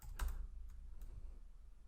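Keys clack on a computer keyboard as someone types during a coding lesson, a few soft, quick taps close by over a low background hum.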